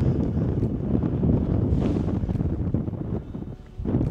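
Wind gusting across an exposed mountain bivouac campsite, a steady loud rushing that buffets the microphone, swelling and easing in gusts with a brief lull near the end.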